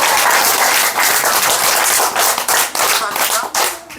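Close, loud clapping from an audience at a Korean talk show, a sustained dense burst with a few rhythmic dips, voices faintly mixed in.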